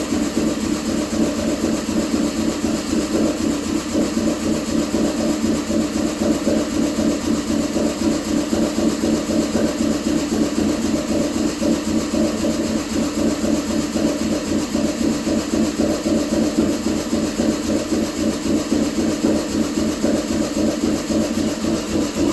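A 2007 Subaru Impreza engine idles roughly after warm-up, a close, continuous droning rumble with a faint uneven pulsing that holds steady for over twenty seconds.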